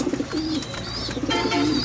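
Pigeons in an indoor breeding room give soft, repeated throaty coos and warbling calls close by, overlapping in short bursts, with no talking.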